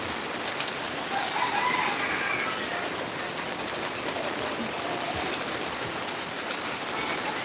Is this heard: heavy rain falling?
yes